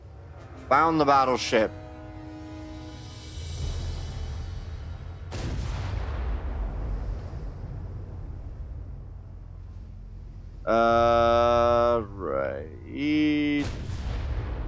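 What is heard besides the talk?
naval artillery shelling in video game Ultimate Admiral: Dreadnoughts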